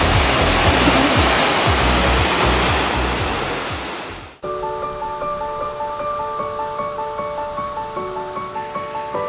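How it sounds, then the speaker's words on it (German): Loud, steady roar of a jungle waterfall crashing down, a dense close rush of water that cuts off abruptly midway, giving way to quieter tonal sounds with a faint repeating pulse. "Aber der Wasserfall ist wunderschön."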